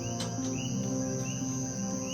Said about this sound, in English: Listen to the frogs. Those are coqui frogs.